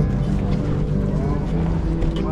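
Steady, loud engine drone of a speedboat crossing from Bali to Lombok, Indonesia, with water rushing beneath, a continuous low rumble and spray.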